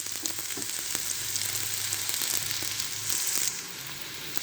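Potato and tomato chops fry in oil with a steady, dense sizzle and scattered crackles, the hiss easing slightly near the end; no one speaks.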